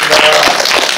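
An audience at a special guest-visit screening of the Korean film 나는보리 claps for the sign-language interpreter, giving a steady, dense wash of applause that fills the whole moment at close range.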